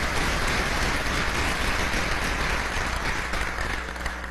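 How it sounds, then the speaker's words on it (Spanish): Loud, dense applause fills a National Assembly chamber in Venezuela, a broad roar of many hands clapping at once, sustained and close, easing slightly toward the end with no voices over it. "Yo pido un aplauso de esta Cámara para todas esas personas que dieron un paso adelante."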